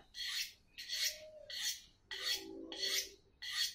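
Six rasping scrapes of a kitchen pen-knife blade drawn along a sharpening steel, evenly paced with short pauses between strokes, close and clear with no talking.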